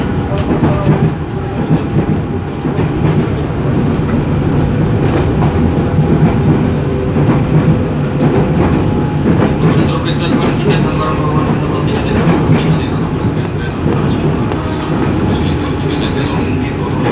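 A KRL commuter train, a former Musashino line set, running through Mangga Besar station, with a loud continuous rumble and rail clatter throughout and voices faintly underneath.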